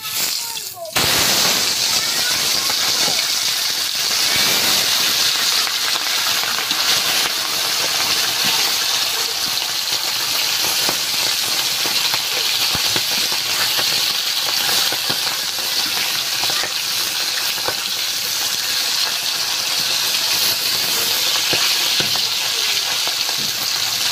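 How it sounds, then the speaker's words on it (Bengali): Tilapia fish frying in hot, smoking oil give a loud, steady, close sizzle that runs unbroken through the whole stretch. "তেলটা গরম হয়ে গিয়েছে, এবার মাছগুলো দিয়ে ভেজে নেব।"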